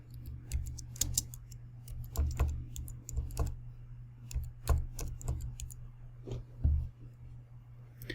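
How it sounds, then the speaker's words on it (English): Someone types on a computer keyboard, irregular clusters of light, quiet key clicks over a low steady hum. "there I will type in GC chromatogram."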